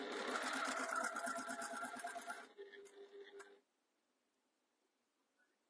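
A sewing machine runs a quick burst of stitches to back stitch at the start of a seam on a jewellery pouch, rapid and close, then slows, stops and leaves near silence.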